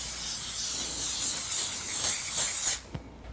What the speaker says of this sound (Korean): 빵 트레이 위에 식용유 발라줍니다